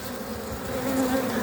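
Honeybees at a hive hum and buzz close by in a dense, continuous drone, the pitch wavering slightly as insects move about and enter the hive.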